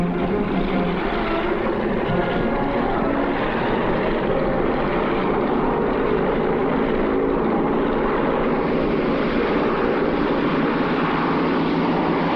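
A Korean War-era U.S. Navy plane roars through a takeoff boosted by JATO cylinders, a dense, constant engine and rocket rumble that stays loud throughout with no speech.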